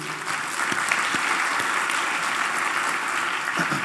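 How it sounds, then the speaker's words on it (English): Conference audience applauding the event organisers during a keynote, a sustained, even round of clapping from a large room, fairly loud and continuous with a few sharper individual claps. "Let's clap them up for that."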